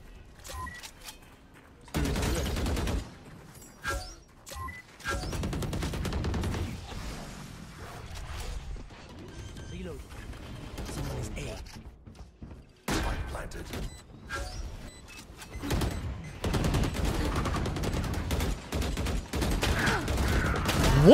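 Rapid gunfire bursts in the Valorant shooter game, repeated volleys of sharp shots through the clip, with a player talking over parts of the action.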